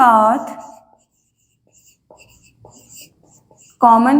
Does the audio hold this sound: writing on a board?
yes